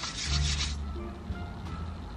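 Hand sanitizer rubbed onto a face by hand: a close, brief burst of soft friction for about a second, then fading into quieter handling noise.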